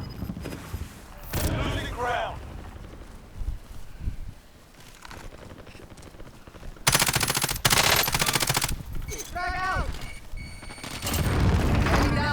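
Bursts of rapid P90 gunfire crackle in Call of Duty: Warzone, loud and dense, with excited voices talking over and between the volleys.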